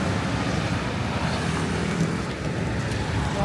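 Dense, steady street traffic in the Philippines fills the air as a constant close roar of engines and road noise, with no clear pauses.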